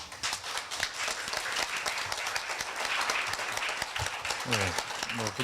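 A university lecture audience applauds steadily, a dense wash of many hands clapping that carries on for several seconds at full volume.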